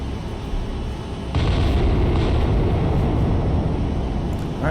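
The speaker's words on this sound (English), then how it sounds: "looks like we just had the right barrel fired there from turret 2" The USS Iowa's turret 2 gun fires in the naval combat game Cold Waters. A steady, heavy rumble swells into a louder, deep blast that keeps booming and roaring for several seconds.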